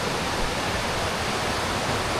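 A river runs in a steady, broadband rush of flowing water, close and continuous with no breaks, and no voices over it.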